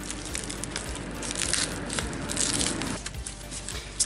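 Packaging being pulled from a box during electric bicycle assembly, giving a steady stream of close crinkling, crunching and tearing noises with a brief louder snap at the end.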